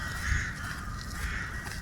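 Crows cawing repeatedly as birds take flight over a constant low rumble and steady background noise during explosions in Kharkiv, the calls fairly close and continuous.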